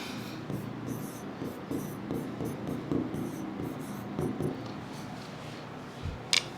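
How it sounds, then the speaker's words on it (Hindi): Chalk or marker on a board during a lecture on accounting derivatives, heard as soft, close scratching strokes that come and go over a few seconds, with faint room noise and a sharp tap near the end. "तो मैं यहां पे एक चीज लिख देता हूं,"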